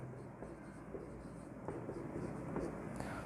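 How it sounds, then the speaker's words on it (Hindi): A pen or marker scratches out a maths equation in short, faint strokes, close by and quiet against a low background hum. "ये इक्वेशन एज इट इज लिखते हैं,"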